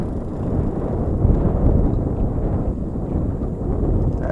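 Strong wind on open water from a boat, a heavy low rumbling buffet against the microphone that gusts and surges continuously and loudly throughout.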